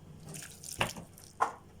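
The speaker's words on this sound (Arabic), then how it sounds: "واحط له ربع كوبايه ميه كمان" Water poured into homemade Egyptian falafel (ta'meya) mixture, two short, soft splashing pours about half a second apart, faint against a quiet kitchen background.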